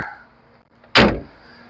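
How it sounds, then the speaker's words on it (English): A single solid thump of a Mercedes passenger car door shutting, sharp and close, followed by a brief low rumble and then quiet. "in the Mercedes automobile, when you go to close the door, you know it."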